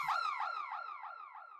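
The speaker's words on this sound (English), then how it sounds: "the next sound that we've got here is this little woo sample" Short synthetic "woo" vocal sample from a Gesaffelstein "Reset" remake, a gliding upward whoop repeated about six times in quick succession, each echo slightly fainter.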